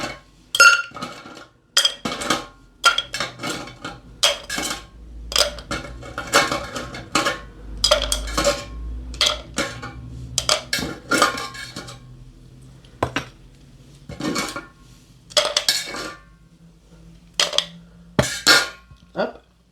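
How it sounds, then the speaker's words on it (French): Ice cubes clatter and knock inside a cocktail shaker while a Pink Lady is mixed, close and busy with irregular bursts of clinking and a voice now and then. "Toujours au shaker, donc"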